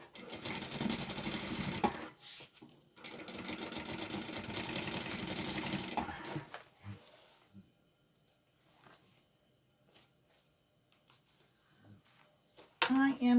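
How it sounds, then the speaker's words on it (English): A sewing machine stitches a seam on a fabric bag in two close, rapid mechanical bursts of whirring, followed by quieter handling clicks and near silence. "And now sew it at your seam."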